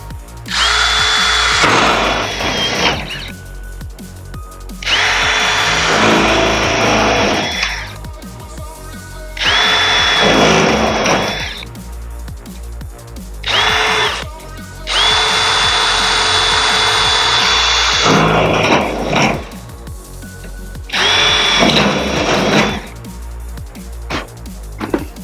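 Power drill driving screws through metal roofing panels on the end row of a pole barn roof, in a series of loud, close bursts of whirring drilling, each lasting a couple of seconds with short pauses between, no talking.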